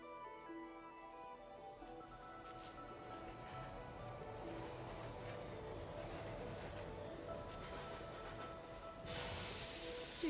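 Train moving along rails in the video game Bright Paw, a continuous rumbling ride with squealing wheels and metallic tones, steady throughout and swelling slightly louder near the end, with no talk.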